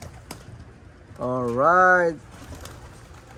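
Racing pigeon in a loft gives a single warbling coo, a close, clear call of about a second rising slightly in pitch, with soft background noise and a brief spoken word nearby.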